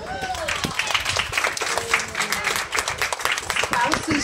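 An audience breaks into sustained, dense applause and clapping with a few cheers, steady and fairly loud throughout.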